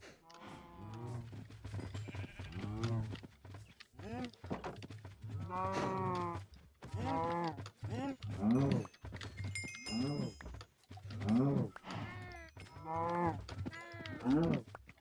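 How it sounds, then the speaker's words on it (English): Cows in a video game mob farm moo over and over, a steady run of loud, drawn-out bovine calls packed close together, some overlapping, with no talk over them. "let's go back to the cows and see how those guys are doing."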